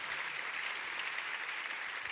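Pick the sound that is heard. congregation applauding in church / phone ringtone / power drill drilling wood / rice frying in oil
congregation applauding in church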